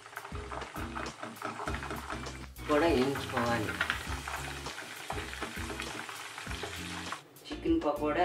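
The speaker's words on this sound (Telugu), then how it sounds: "పచ్చిమిర్చిని చీలికల్లా చేసుకుని ఇలా వేయించుకుని, కరివేపాకు కూడా ఆయిల్లో వేయించుకోవాలి." Split green chillies and curry leaves fry in hot oil for chicken pakora, a loud crackling sizzle that flares up as more goes into the pan, while someone talks over it.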